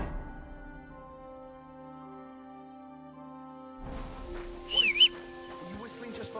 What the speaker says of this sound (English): Are you whistling just for fun?